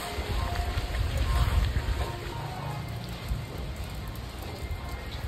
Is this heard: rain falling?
yes